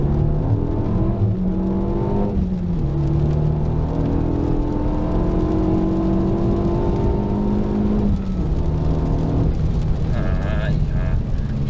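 Renault Megane RS accelerating hard in second gear, engine pitch climbing steadily and loudly from inside the car before a shift, while someone talks over the rising whine.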